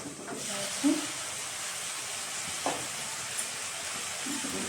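A dry fish curry with water added, stirred in a pan, giving a steady hiss of simmering with a few soft spatula knocks and scrapes, close and fairly quiet.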